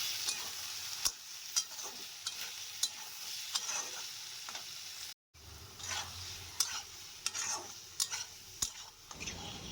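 Spiced masala with salt, turmeric, dried chilli and cumin powder sizzles in a pan as paneer curry cooks, a steady frying hiss broken by repeated sharp spatula scrapes, close and moderately loud, with one brief dropout midway.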